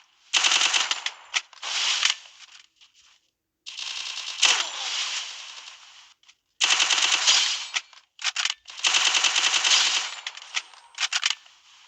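Automatic gunfire in a battle royale video game with a UMP, heard as loud, rapid bursts of shots separated by short pauses, with shell-like clinks between them and no talk.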